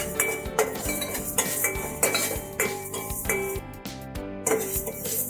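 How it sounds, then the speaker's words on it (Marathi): Urad dal dry roasting in a pan on low flame for dosa masala powder, with a metal spoon clinking and scraping against the pan in irregular strokes, close and clear, lentils rattling softly. "हे पण 3 ते 4 मिनिटं लो फ्लेमवर भाजून घ्यायचं आहे."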